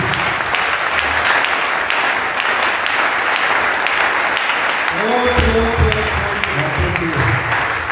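A church congregation breaks into sustained applause that fills the hall, rising into a steady dense clatter of clapping with shouts mixed in, loud and close.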